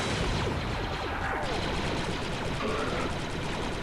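Enemy gunfire in Star Wars: Republic Commando: dense, rapid shots crackle continuously and loudly, overlapping into a steady barrage.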